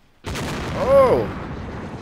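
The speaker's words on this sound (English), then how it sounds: "These guys firing the cannons here." A cannon fires in the video game Mount & Blade: Napoleonic Wars: a sudden loud boom followed by a long rumbling roar, with a brief tonal whistle riding over it mid-blast.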